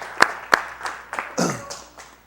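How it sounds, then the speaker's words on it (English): A small audience claps at a livestreamed gathering, a handful of sharp, scattered claps spaced irregularly, close and moderately loud. "Let's get ready to stand, give Miss Yu a hand clap, because he's worthy."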